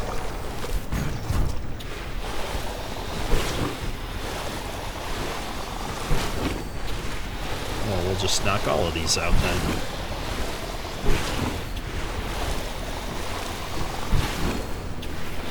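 Water cannon on a farming mech in the video game Lightyear Frontier sprays in a steady, rushing wash with a few sharper splashy bursts, while someone talks over it.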